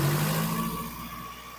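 A Suzuki Futura engine revs loudly near the start, its pitch steady and then easing as the note settles into a lower, continuous hum. No one speaks over it.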